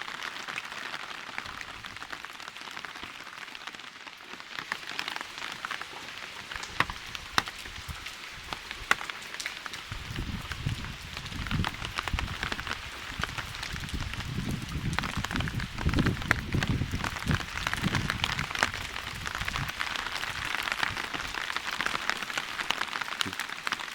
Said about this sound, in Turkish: Geceden beri çok güzel bir yağış var. Bazen karla karışık yağmur. Bazen sadece yağmur.